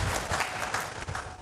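An audience claps for Tanzania's prime minister at a Yanga club event, a brief burst of dense, fairly loud applause from many hands.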